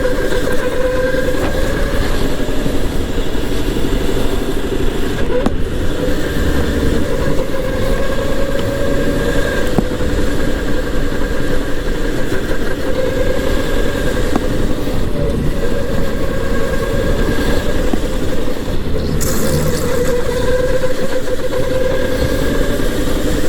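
A go-kart engine drones steadily through a full lap at High Voltage Karting, a loud, continuous mechanical roar with slight rises and falls in pitch and no talking.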